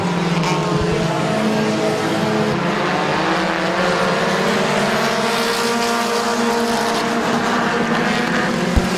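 Race cars circling the track at Midvale Speedway on the final lap, engines droning loud and continuous with shifting pitch as they battle for the lead, a faint announcer's voice under the roar.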